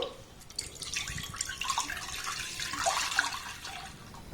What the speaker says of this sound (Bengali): কড়ার মধ্যে সামান্য একটু আমি জল দিয়ে দিলাম